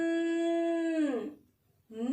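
A voice hums a sustained droning tone in imitation of an aeroplane flying in the sky, holding steady, sliding down, breaking off briefly, then starting again.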